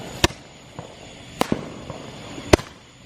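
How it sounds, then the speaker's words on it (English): Fireworks at a 2021 Fourth of July home fireworks show: three loud, sharp bangs about a second apart, with fainter pops between them and no talking. "And LyLy's 4th of July fireworks show."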